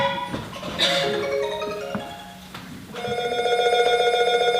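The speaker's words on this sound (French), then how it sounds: "Oh, bah ça sonne sur ce téléphone." A telephone rings with a bright electronic bell trill, an earlier burst followed by a louder, sustained ring starting partway through, heard alone and close.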